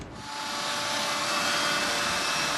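A Dyson DC59 Animal cordless vacuum cleaner spins up and runs loud and steady at close range during a suction test after being loaded with dust, its whine holding constant with no voices.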